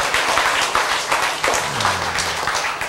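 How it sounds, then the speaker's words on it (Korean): Audience clapping during a lecture hall talk, a dense steady wash of many hands applauding together throughout, close and fairly loud with no voices standing out. "여러분 이렇게 박수를 치고"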